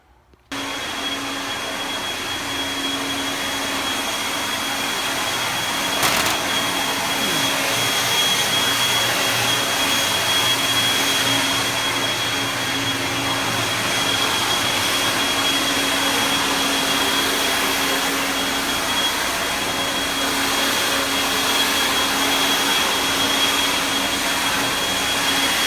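Compressed air blasting dust and debris off an El Camino during final body work, a loud steady roar of rushing air that holds almost unbroken for the whole stretch, with a faint tonal hum underneath.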